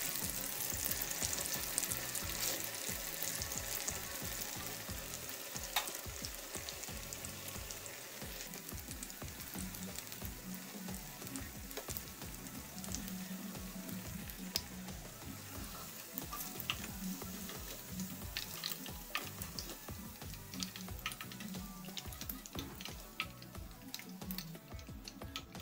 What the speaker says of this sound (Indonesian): kita goreng semuanya sampai selesai ya